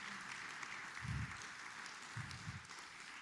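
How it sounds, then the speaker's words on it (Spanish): A church congregation applauding during a Spanish-language service, scattered moderate clapping throughout with a few louder low thumps, heard at a distance and fairly quiet. "dale un aplauso al Señor."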